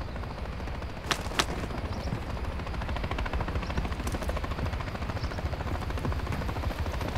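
Helicopter rotor drone from Call of Duty Modern Warfare III, a steady close churning roar that runs throughout, with two sharp gunshot-like cracks early on breaking through the hum.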